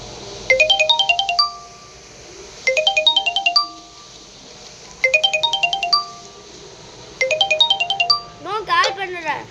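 A phone ringtone plays in the Roblox video game, a bright, loud run of rising electronic tones heard in four identical bursts, followed by a brief vocal sound at the end.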